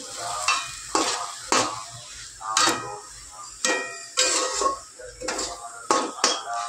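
Ash gourd frying with onion, nigella seeds and green chillies while being stirred, with regular sharp clinks of a spatula on the pan over a soft sizzle, close by.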